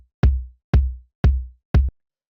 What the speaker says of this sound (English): But actually, the next thing we have is this kick